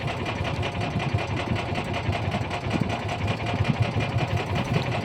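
A steady, loud boat engine drone with a fast rattling pulse, running continuously and close by with no pauses.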